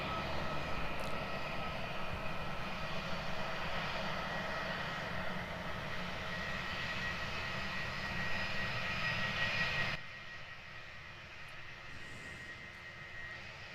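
Jetstar airliner taxiing at Christchurch Airport, its engines a steady distant whine and rumble that holds evenly, then drops abruptly to a quieter background hum.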